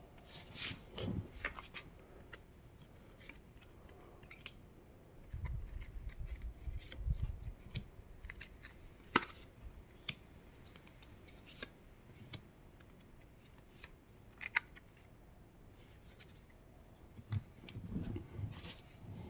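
Tarot cards are shuffled and dealt out for a cross spread, giving soft close rubbing and sliding with light flicks and taps in irregular bursts, quiet overall and with no talking.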